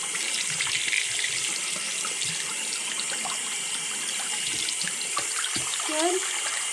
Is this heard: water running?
yes